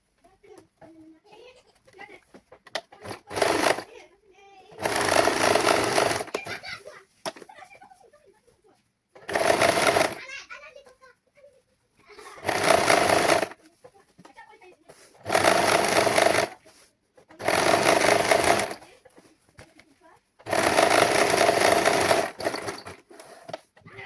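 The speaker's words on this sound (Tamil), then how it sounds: "அந்த சைடு நான் தைக்கணும்" Sewing machine stitching the side seam of a dress in six separate bursts of steady whirring, each a second or two long, separated by pauses with faint handling sounds; close and fairly loud.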